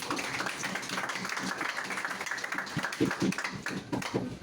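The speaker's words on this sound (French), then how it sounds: "Vous pouvez vous applaudir vous-même" Scattered, fairly faint clapping from a crowd at a political party membership gathering, with uneven patters and a few louder claps toward the end.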